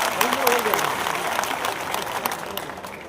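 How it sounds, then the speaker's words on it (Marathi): A crowd applauds to welcome a guest at a political gathering in Maharashtra, a continuous wash of clapping with a voice speaking faintly beneath it. "आपण जोरदार टाळ्या वाजवून त्यांचं स्वागत करावं।"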